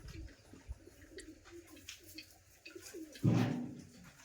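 A pigeon coos briefly and close by near the end as it eats peanuts, preceded by quieter rustling and faint background sounds.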